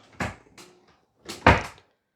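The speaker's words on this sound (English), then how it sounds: "I keep opening these drawers because I lean on them." Kitchen drawers without handles thump and slide open as someone leans against them, two quick bursts of knocking and rattling close by with no talking.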